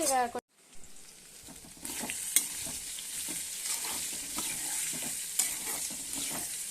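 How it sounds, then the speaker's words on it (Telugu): Ivy gourd (dondakaya) fry hisses steadily in a home-kitchen pan, with scattered clinks and scraping stirs through the sizzle after a brief voice at the start. "ఇంకా దొండకాయ ఫ్రై కూడా చేస్తున్నాను"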